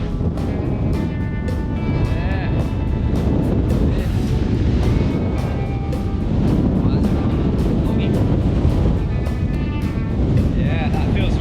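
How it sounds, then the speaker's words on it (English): Strong wind buffets an outdoor microphone at dawn after a windy night, a loud, continuous roar of gusts and rumble with a person talking briefly over it. "Looking pretty windy."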